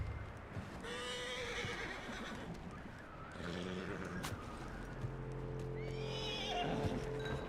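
Horse in Red Dead Redemption 2 whinnying loudly and repeatedly over game ambience, with hoof clip-clops and a steady background bed, the neighs rising and falling in several bursts.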